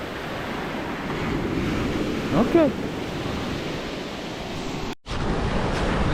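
Sea waves break and wash along a beach shore in a continuous rushing surf, with wind buffeting the microphone, a brief voice partway through and a short dropout near the end.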